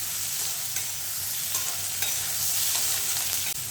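Onions sautéing in hot oil in a pan for ragi upma, a steady close sizzle with a few light scrapes and clicks of stirring, no voices.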